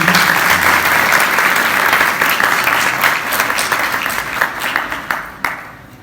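Audience applause welcoming a Catholic Bible study class: full, continuous clapping from a gathered crowd that thins out slightly near the end.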